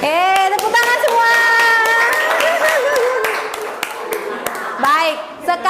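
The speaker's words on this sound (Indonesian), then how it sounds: "Tepuk tangan semua." Children clap their hands together in a classroom, loud sharp claps overlapping with excited, laughing kid voices throughout.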